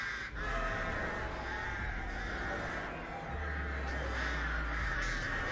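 Crows caw repeatedly in Dead by Daylight during a match with the Artist killer, harsh calls layered over a steady game ambience with a low hum, loud and continuous throughout.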